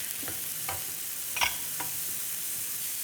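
Onion sautéing in olive oil in a pan for a Greek dish, a steady broadband sizzle with a few brief stirring scrapes and one louder clatter near the middle.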